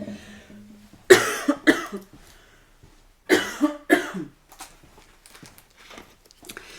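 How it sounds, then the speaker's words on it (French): Two bursts of harsh coughing, each a quick cluster of two or three coughs, close and loud, separated by a few seconds of quiet. "je vais tousser"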